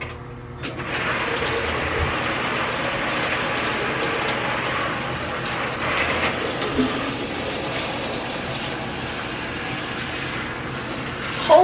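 Steady rush of running water pours over hair as purple shampoo is rinsed out, a continuous close-up spray with slight splashing that fills the whole stretch without talk.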